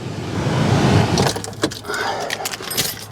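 Blower motor fan of a Toyota Tundra running after replacement, a steady broadband whoosh of airflow with a few small clicks and rattles over it, close and moderately loud.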